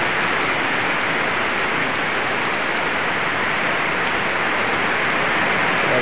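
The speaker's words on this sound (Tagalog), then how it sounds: "Lakas pa naman ang ulan." Heavy rain pours down steadily, a loud, dense and unbroken hiss of water with no pauses or voices.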